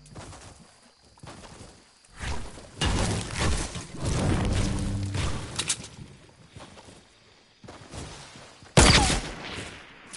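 Sniper rifle shots in a PS4 shooter game crack out in irregular bursts, some loud and close, others fainter, with dense stretches of gunfire between quieter gaps and no talking.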